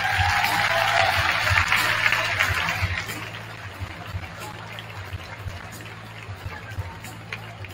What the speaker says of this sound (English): A big round of applause for the St. Francis Xavier Rams!